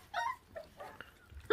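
Wild dog puppy, about 26 days old, whimpering and whining in short, faint yelps spread across a brief stretch while chewing raw meat, with a louder cry at the end.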